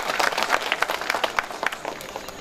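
A crowd at a village drama performance applauds the young actors: lively, uneven clapping with sharp individual claps popping through a fairly close, energetic wash of applause.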